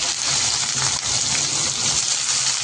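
Chopped onion frying hard in hot oil with garlic and green chili, a loud, steady sizzling hiss that runs unbroken from start to finish with no voices over it.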